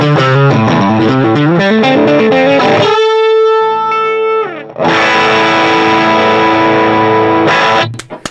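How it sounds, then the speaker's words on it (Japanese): Vintage electric guitar played through an overdrive pedal, mixed pickup setting, giving a loud, gritty, sustained lead with a rapid run, held bending notes and a brief drop before ringing chords, with no talking. "ちょっとこのオーバードライブを踏んでみますね"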